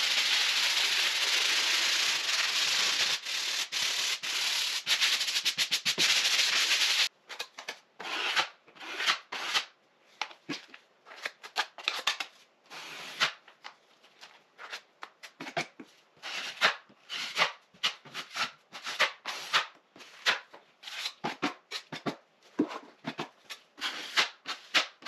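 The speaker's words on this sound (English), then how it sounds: "then I'm gonna apply the second coat of mud. I'm just gonna use 6-inch knife this time and just keep feathering out" A 6-inch drywall knife spreads a second coat of joint compound over a drywall hole repair, first as a steady broad scraping rasp, then as many short, irregular swipes close by.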